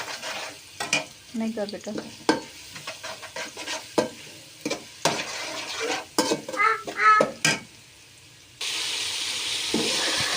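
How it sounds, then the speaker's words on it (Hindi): Garlic sizzles and fries in a hot pan for an eggplant bharta masala, with a spoon scraping and clinking against the metal in irregular bursts. A brief spoken phrase comes partway through, and a steady loud hiss of frying fills the last couple of seconds. "इसके अंदर जो है वो हमने लहसुन डाल देना है।"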